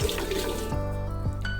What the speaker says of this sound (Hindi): अब हम इसमें थोड़ा सा पानी डाल देंगे ताकि जो हमारा चीनी का शीरा है उसमें मेल्ट ना पड़े।